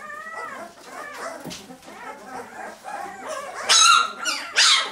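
Young five-week-old puppies whimper and yip in thin, high cries that build into sharper, louder barks toward the end, all close by.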